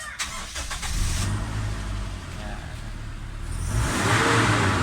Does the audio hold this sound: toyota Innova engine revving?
yes